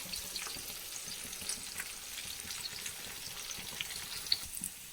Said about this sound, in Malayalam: നമ്മുടെ വഴുതനങ്ങയൊക്കെ നന്നായി ഫ്രൈ ആയിട്ട് വന്നിട്ടുണ്ട്.